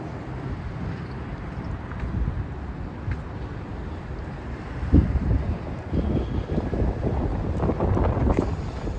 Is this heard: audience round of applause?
no